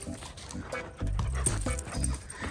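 A dog on a desert trail near Quartzsite, Arizona, makes short close sounds, sniffing and small vocal noises, with footsteps on the trail below.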